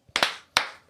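An audience gives two sharp claps in quick succession, then a third separate clap, each with a short ringing decay, close and crisp with nothing else around them.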